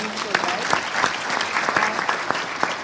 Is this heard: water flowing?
no